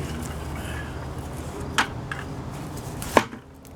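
Potatoes and rich soil tumble out of a grow container into a bowl, making a soft continuous rustle broken by two sharp knocks from the bowl, the second louder.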